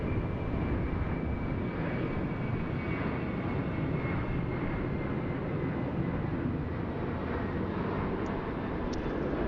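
Qantas airliner taxiing down a taxiway at Sydney Airport, a steady broad engine roar with a faint whine, continuous and fairly close, no talk.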